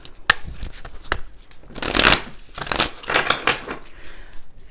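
Tarot cards are shuffled briskly and close up, producing dense riffling and papery slapping in uneven bursts, with a couple of sharp card snaps and no talking.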